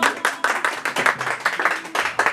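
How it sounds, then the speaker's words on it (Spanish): A small group claps loudly for a birthday person at a mariachi birthday celebration, quick uneven hand claps close by that come in a ragged, lively burst. "Y ese aplauso bien fuerte para él."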